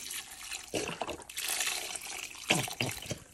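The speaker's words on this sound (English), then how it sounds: "32 ounces of beef broth. Pour all of that in there." Beef broth poured from a 32-ounce carton into a pot for a Caribbean beef stew, several gushing glugs and splashes in bursts, close and moderately loud.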